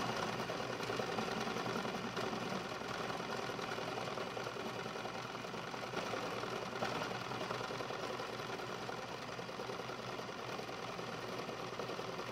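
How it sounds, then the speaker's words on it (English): Sewing machine running a steady zigzag stitch around fabric pieces, a continuous close mechanical whir with fine rapid ticking and no talking. "I'm going to put my presser foot on the edge, and I'm going to zigzag around all my pieces."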